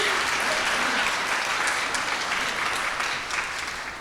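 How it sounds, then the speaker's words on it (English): An audience bursts into steady, dense applause at a talk on food as resistance, a continuous wash of clapping that fades slightly toward the end. "clap for her"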